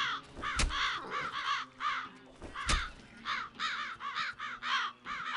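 Crows caw repeatedly in the video game Land of the Dead, harsh calls coming in quick clusters with two sharp thuds between them, fairly close and loud with no talking.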